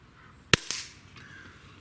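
An air rifle pellet strikes a shotgun shell target outdoors: a sharp, sudden crack followed a moment later by a fainter second snap, then near silence.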